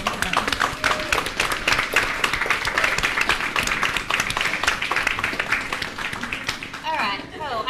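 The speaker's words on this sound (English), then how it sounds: "So can we have a round of applause for them?" Lively clapping from an event crowd in a harbourside venue, loud and irregular throughout, with voices and some cheering mixed in toward the end.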